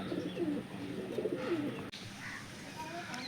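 Low, soft cooing from pet pigeons repeats through the first half, with a murmur of background noise and no speech.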